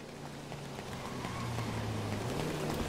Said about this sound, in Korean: 저거 뭔 소리야? 차 소리 들리는데,